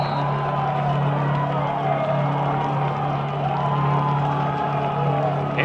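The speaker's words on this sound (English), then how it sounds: "especially playing in front of this charged up crowd" A home football crowd at Harvard Stadium roars through the season opener against Holy Cross. The steady, broad wash of cheering holds evenly throughout, with a low constant hum underneath.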